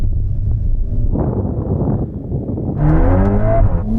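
Tuned hot hatch accelerating hard in a drag race, engine note rising and dropping through gear changes, loud and close with heavy wind buffeting, no talk.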